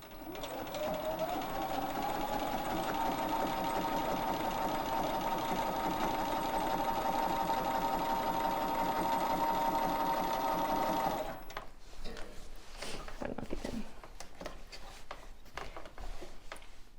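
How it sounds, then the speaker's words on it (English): A sewing machine runs steadily while stitching curved quilting lines on a quilt-as-you-go block, a continuous close mechanical whir for about eleven seconds before stopping, followed by faint handling noises. "Take a couple of small stitches in place to anchor that thread. And then I'm just going to curve into the center line and then gently curve back out."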